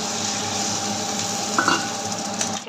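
Mustard paste and water going into a sizzling pan of fish curry: a continuous hiss of frying with a brief spoon scrape and clatter of the pan, close and fairly loud, no voices.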